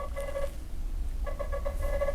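A Nothing Phone 2 ringtone plays from the handset's speaker, a short pattern of bright electronic tones pulsing in quick repeated beats over a low background rumble, with a brief pause between phrases.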